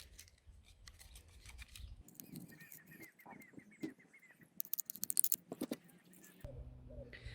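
Sharp scissor snips cutting drinking straws, quiet at first then a quick cluster of crisp close cuts toward the end, with faint handling rustle and no talk.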